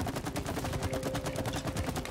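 Gunfire in the It Takes Two video game rattles continuously in a rapid, dense burst that stays loud and steady throughout, with no speech over it.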